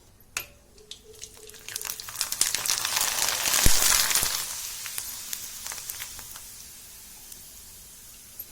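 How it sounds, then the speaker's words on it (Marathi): Rice-flour khichiya papad dropped into hot oil gives a sudden burst of crackling and sizzling that swells, peaks, then settles into softer bubbling, close up. "आपलं तेल कडक तापलेलं आहे. बघा आपण आता तिच्यामध्ये पापड टाकू."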